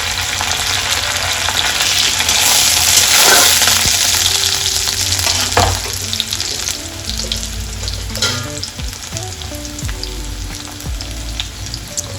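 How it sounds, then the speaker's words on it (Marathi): Chopped onions frying in oil for a dry brinjal vegetable dish, a steady loud sizzle with scraping stir strokes throughout and no talking. "आता यामध्ये मी थोडे कांदे टाकून घेणार आहे. कांदे चांगले लाल होईल तोपर्यंत परतवून घेणार आहे."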